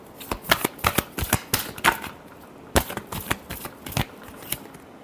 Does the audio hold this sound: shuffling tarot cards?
yes